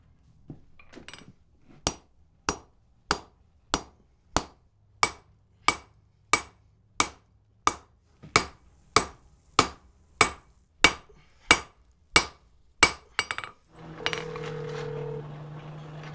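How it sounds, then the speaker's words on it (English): About twenty sharp, ringing hammer blows strike wrought iron in an even rhythm while forging a door bolt, followed by a brief scraping, humming noise at the end. "going to be lots of hammering"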